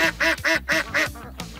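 Ducks quack loudly and close by in a quick run of five nasal calls, then fall quiet with a faint rustle at the end.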